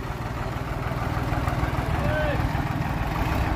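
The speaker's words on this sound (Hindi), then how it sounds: "अब देखियो भाई लिकड़ता हुआ ट्रैक्टर भाई" Swaraj tractor, a 744 or 735, engine running steadily as it pulls a trolley up a steep incline, a continuous low rumbling drone throughout, with voices talking faintly in the background.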